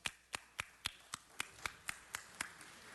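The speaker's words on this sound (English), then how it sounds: "give Albert a round of applause" Slow, steady hand claps in a city council chamber, about a dozen evenly spaced sharp claps over three seconds, faint and sparse, like a single person or a few people applauding without talk.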